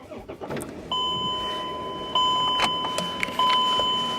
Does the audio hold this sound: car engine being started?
yes